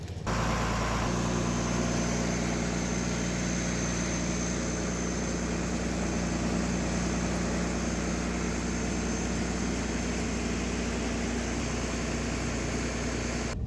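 Irrigation pump engine running at night on a blueberry farm for overhead freeze-protection watering, a steady low mechanical drone that holds unchanged throughout and sounds fairly distant and muted.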